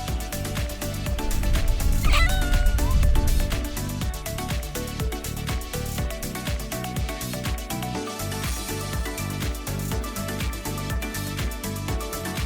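A cat meows briefly on Yushima, the cat island in Kumamoto, heard faintly beneath loud rhythmic background music that runs throughout.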